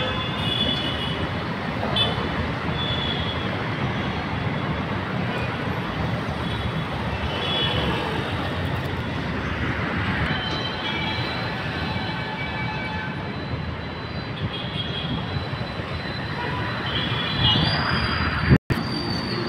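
A metro train at LB Nagar metro station gives a continuous rumble with faint wheel squeals throughout, ending in a single sharp click near the close.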